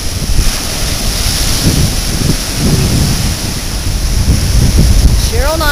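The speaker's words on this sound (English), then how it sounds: "Look at the waves." Ocean waves break on the Gulf Shores beach, rolling surf washing in with a continuous roar while wind buffets the microphone, loud and close the whole time.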